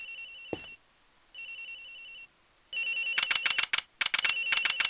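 In Ace Attorney Investigations, a ringing phone plays a thin electronic tone that drifts in and out at first, then breaks into quick, bright trilling bursts, with no voices.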